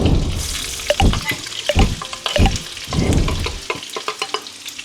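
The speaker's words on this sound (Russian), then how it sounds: "И лук отправляем на сковородку теперь." Chopped onion sizzles in hot vegetable oil in a frying pan while being stirred, with bursts of crackling scraping at a regular rhythm, close and fairly loud, no voices.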